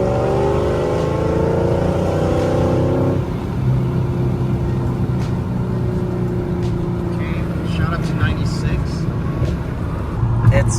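A Mercedes E55 engine with an upgraded intercooler revs hard at full throttle and climbs in pitch, then shifts and keeps pulling with a rough, loud rumble, close by.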